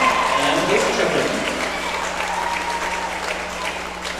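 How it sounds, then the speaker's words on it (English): Audience applause fills a county fair show ring after a chef's chicken cooking segment, a steady wash of clapping that stays loud throughout and eases slightly toward the end. "Let's give a nice round of applause to our chef and his chicken."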